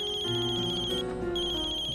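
A phone rings with a melodic ringtone in a Hindi TV drama scene, a repeating high electronic tone pattern sounding steadily and fairly loud throughout, with no talk over it.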